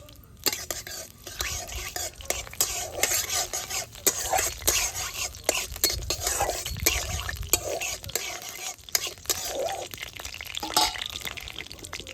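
Whole five-spice seeds and a dried red chilli crackle and sizzle in hot mustard oil, a dense close frying hiss broken by sharp pops and the scrape of a stirring spoon, with soft murmuring in the background.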